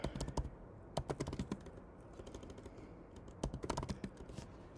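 Fingers typing on a computer keyboard in quiet, close-up bursts of rapid key clicks, with pauses between the runs and no voices over them.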